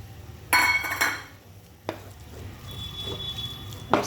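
Potato filling stirred in a pan, with a few metallic spoon scrapes and clanks against the pan, quiet stretches between strokes and a final clink.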